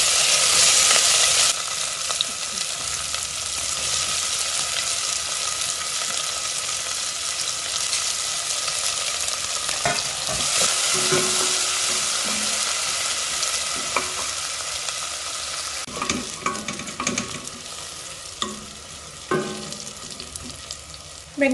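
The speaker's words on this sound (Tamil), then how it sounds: "வெங்காயம் நல்ல பொன்முருவலாக பொரிஞ்சிட்டு" Onions sizzle steadily in hot oil with cardamom, cloves and bay leaves for kuska biryani, a continuous close frying hiss broken by occasional stirring scrapes and clinks.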